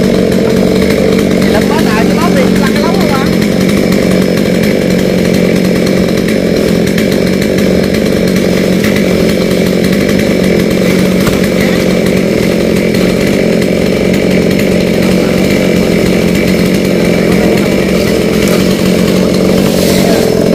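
A chainsaw cuts through a coconut tree trunk lying on sandy ground, its engine screaming loud and unbroken for the full stretch, close up, while someone talks over the din.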